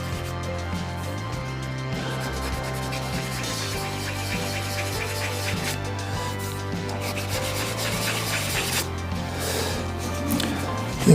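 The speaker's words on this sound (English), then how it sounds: "all the sanding that you've got to do to get the nice finish" Steady rubbing of sandpaper against an African Zebrano wood pen blank spinning on a lathe, a continuous soft rasp over the motor's hum, close and even throughout.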